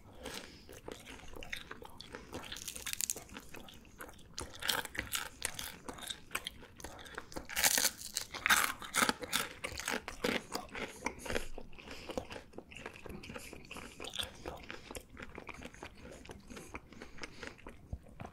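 Crunchy bites and chewing of grilled shrimp eaten shell and all, crisp snaps recurring in bursts close to the mouth with no talking.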